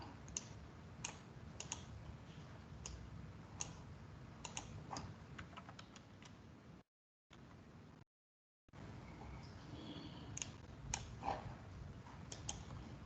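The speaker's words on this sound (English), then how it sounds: "I'm just quickly typing it out here." Rapid typing on a computer keyboard during an online maths class, a steady stream of close, quiet key clicks with two brief silent gaps.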